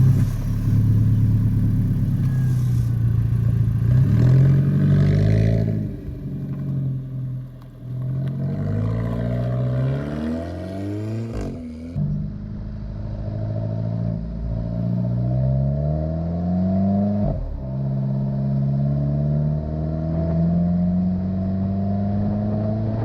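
An Alfa Romeo 4C cruises along country back roads, its mid-engine droning steadily and rising through several gear pulls, heard from inside the cabin at moderate volume with no talking.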